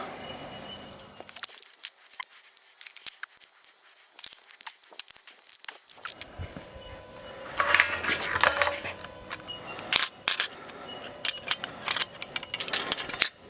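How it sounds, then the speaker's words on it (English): Metal spanner working caps off home brewery equipment during cleaning, giving quiet scattered metallic clicks and ratcheting scrapes, then a busier, louder stretch of clattering metal parts and rattles near the end. "You get a spanner, take all the caps off."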